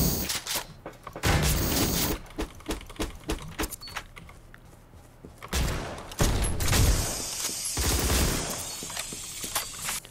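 Bursts of flamethrower fire in the video game surviv.io, a rough crackling roar that comes in several spurts amid sharp clicks and impacts, fairly loud and close.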